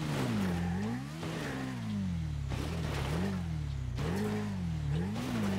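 A car engine in GTA V revs in repeated rising and falling surges as the throttle is tapped gently, a steady mid-pitched drone with several short pulses and no talk.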